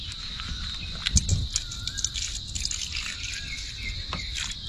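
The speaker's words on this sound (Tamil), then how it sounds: "ஓகே, லைட்டாக கொஞ்சம் தண்ணியை ஊற்றி" Water poured lightly over vegetables to rinse them outdoors in a forest, a faint trickle with scattered drips under a steady buzz of insects and a few brief knocks.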